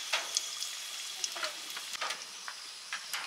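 Bay leaves and dried chilies sizzle and crackle in hot mustard oil in a kadai, a steady close frying hiss with scattered pops and spits throughout, no talking.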